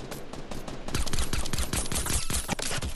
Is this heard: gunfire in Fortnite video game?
yes